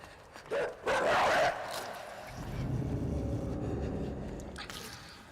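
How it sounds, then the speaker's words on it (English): A guard dog barks in the video game INSIDE, giving a couple of loud close barks early on, followed by running and rumbling movement that fades as the chase continues. "Oh no, now the dog's chasing me."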